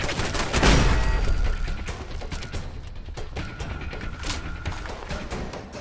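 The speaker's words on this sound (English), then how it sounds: "Oh, turret." An automated turret in the game Fallout 4 lets off rapid bursts of gunfire, a loud rattling volley at the start followed by quicker repeated shots and mechanical clatter.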